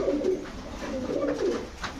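Several low pigeon coos roll and overlap close by at a pigeon shop, repeating steadily against a soft background rumble.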